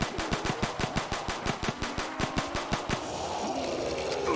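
Rapid pistol shots in Black Ops 3 custom zombies, a fast, steady string of sharp cracks for about three seconds that stops abruptly, leaving a muffled wash of game noise behind.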